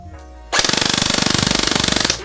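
A Tokyo Marui MP5K HC high-cycle airsoft gun fires one long full-auto burst after a quiet moment, a rapid, loud, evenly spaced mechanical rattle lasting under two seconds.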